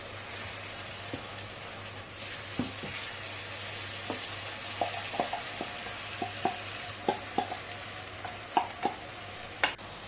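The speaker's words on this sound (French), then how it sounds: "J'ajoute mes légumes mixés. Et je mélange." Blended vegetables frying in a pan with a soft continuous sizzle, broken by irregular light clicks and scrapes of a utensil stirring, close by and fairly quiet.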